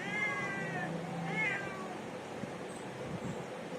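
Two close meows from a pregnant cat, a long wavering cry and then a shorter rising one, followed by faint ambient noise.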